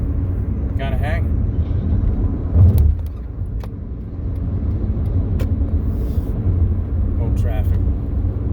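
Road traffic passes by as a low, steady rumble of vehicles, with a louder swell midway and a few faint sharp knocks and squeaks nearby.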